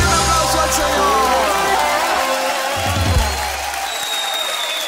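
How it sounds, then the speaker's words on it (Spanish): A worship congregation bursts into sustained applause and crowd noise during a Spanish-language church song, loud and continuous over fading musical tones. "¡Dale un aplauso al Señor!"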